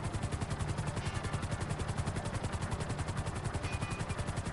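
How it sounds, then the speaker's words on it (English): A helicopter flies in GTA 5 Online, its rotor giving a steady, loud, rapid chopping thump that runs without pause throughout, with no talking over it. "No, this helicopter's not very good."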